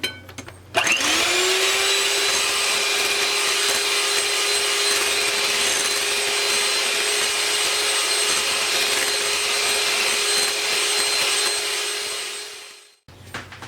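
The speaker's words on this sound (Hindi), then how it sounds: "फिर हम इसको बीट कर लेंगे।" An electric hand beater whips condensed milk and cream for homemade ice cream, starting abruptly and running as a loud, steady whirring motor for about twelve seconds before winding down.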